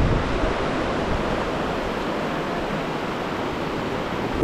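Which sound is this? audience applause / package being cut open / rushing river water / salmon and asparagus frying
rushing river water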